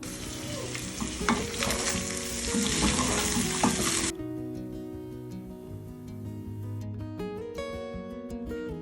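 Chopped onions and other ingredients sizzle loudly in a pan for a few seconds with stirring scrapes, then the frying sound drops away under background music, with no talking.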